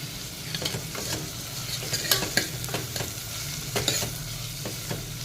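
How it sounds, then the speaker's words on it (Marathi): Tomatoes with chili powder and salt sauté in a pan, a soft steady sizzle punctuated by scattered clicks and scrapes of stirring, quiet and close, with no talking. "एखाद दोन मिनटं आपण टोमॅटो परतून घेऊया लाल तिखट घालूयात चवीनुसार मीठ घालूयात"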